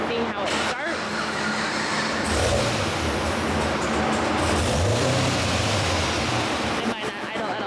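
Supercharged Chevrolet Camaro SS on a dyno with a freshly changed tune, engine cranking over and then running in a loud, rough, uneven idle that struggles to stay steady before cutting off near the end.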